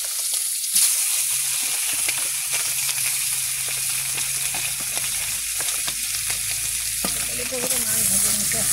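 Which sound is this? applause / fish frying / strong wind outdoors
fish frying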